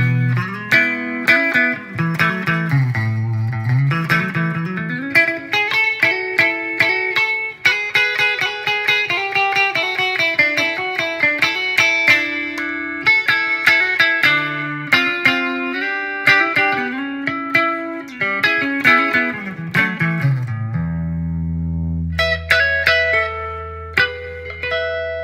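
Electric guitar through a Line 6 Spider V 240HC amplifier rings out with heavy, washy reverb and some distortion, playing a wandering melodic line with long sustained tails.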